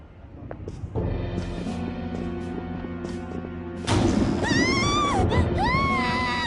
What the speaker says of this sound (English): Scream? What was that?